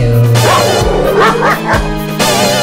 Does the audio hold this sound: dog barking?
yes